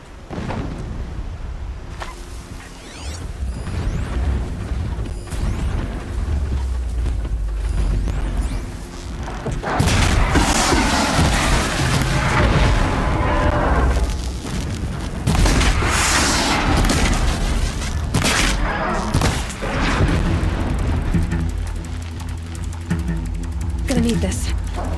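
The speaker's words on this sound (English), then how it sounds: "Explosions in the distance." Distant explosions in a video game boom repeatedly across the whole stretch, dull and continuous with swelling rumbles, mixed with faint whooshes and game ambience.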